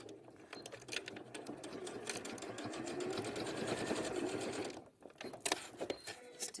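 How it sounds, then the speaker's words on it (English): A sewing machine stitching fabric runs in a fast, steady whirring rhythm for several seconds. It then stops abruptly and a few sharp mechanical clicks follow, heard up close with no talking. "I'm actually going to get to the sewing machine"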